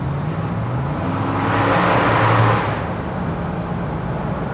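A Ford F-150 pickup truck driving along a road, heard from inside as a steady low road and engine hum that swells briefly while passing under a small bridge, then settles back.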